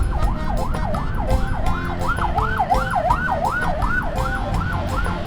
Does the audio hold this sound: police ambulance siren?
yes